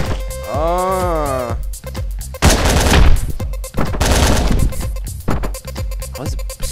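Bursts of gunfire in the top-down action game Hotline Miami, loud and close, coming in several rapid clusters over driving game music, with no talk.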